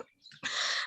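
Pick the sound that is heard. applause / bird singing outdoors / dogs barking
bird singing outdoors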